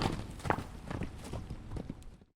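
American Paint horse in Red Dead Redemption 2, its hooves clip-clopping in a steady walking rhythm at close range, with a few sharper hoof strikes standing out over a soft ambient bed.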